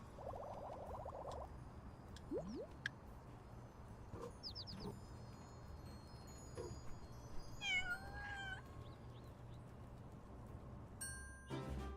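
A cat meows repeatedly in the video game Red Dead Redemption 2, with several close, clear meows scattered over soft in-game ambience and faint bird-like calls.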